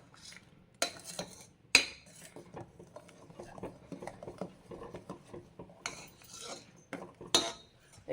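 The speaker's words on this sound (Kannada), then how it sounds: "ಈಗ ಚೆನ್ನಾಗಿ ಕೈ ಬಿಡ್ದಿರಂಗೆ ತಿರುಗಿಸ್ತಾ ಇರಬೇಕು, ಇಲ್ಲಾಂದ್ರೆ ತಳ ಹಿಡ್ಕೊಂಬಿಡುತ್ತೆ" A metal spoon scrapes and clinks against a pan while milk and flattened rice cook, with sporadic sharp knocks and a steady soft stirring rasp, close up and with no talk.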